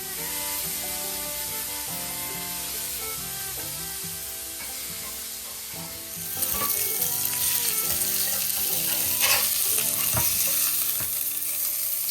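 Bacon fries in a pan during off-grid cooking, a continuous crackling sizzle that grows louder and busier about halfway through, with occasional pops and faint clinks.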